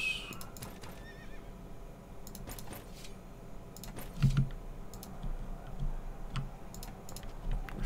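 A horse whinnies amid clip-clopping hooves and a busy battle soundscape in the video game Knights of Honor 2: Sovereign, with scattered clinks and ticks in the background.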